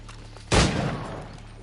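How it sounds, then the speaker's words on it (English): A single loud burst of gunfire from Assassin's Creed IV Black Flag, a sharp broadband crack with a short rumbling decay, standing alone after quiet game ambience. "Wow, bullets."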